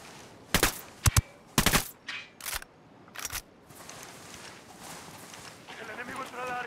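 Sniper gunfire in Ghost Recon Wildlands: five sharp, loud shots crack out in an uneven sequence over the first few seconds, followed by a softer stretch of battlefield noise with voices.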